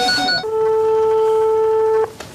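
Telephone tones on a call to a flower shop, with a short beeping pattern followed by one long steady tone lasting about a second and a half, loud and close, no talking.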